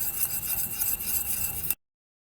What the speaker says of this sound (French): il faut mélanger vigoureusement sans s'arrêter durant 3 minutes